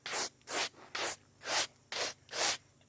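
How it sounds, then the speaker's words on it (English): A stiff bristle brush scrubs debris from cracks in a blacktop driveway in six steady, even strokes, each a rough scraping rasp separated by short pauses, close and fairly loud. "So I just use a bristle brush."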